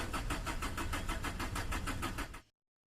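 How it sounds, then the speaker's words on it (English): A car engine that has no spark plugs and no intake or exhaust manifolds cranks over in a fast, even pulsing chug, loud and close. It runs steadily for about two and a half seconds, then cuts off abruptly to silence. "you've heard it from the engine. It works. It runs."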